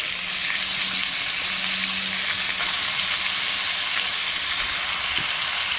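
Food frying in a home kitchen pan during Ramadan cooking, a steady loud hiss of oil filling the whole stretch with faint scrapes of stirring now and then, and no voices.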